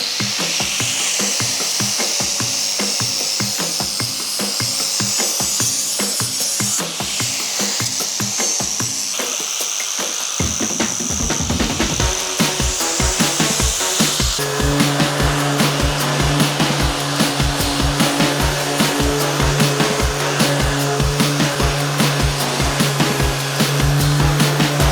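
A handheld power tool grinds and buffs metal camper step parts in a workshop, a steady, loud whine running throughout, its pitch and texture shifting midway as the tool bites harder into the steel.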